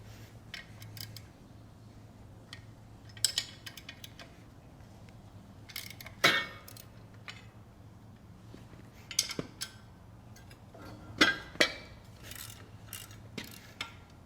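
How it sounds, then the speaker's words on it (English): A wrench loosens an adjustment bolt on cultivator sweeps, producing scattered ratcheting clicks and metallic clanks at close range over a low steady hum. "I'm going to loosen the adjustment bolt so the sweeps are free floating"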